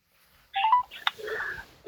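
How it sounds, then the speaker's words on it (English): Telephone dialing while calling Bradford Council's legal department: a short run of rising DTMF keypad tones, then a sharp click and a muffled line tone before the call connects, close and fairly loud. "Ringing up Graeme Kenna."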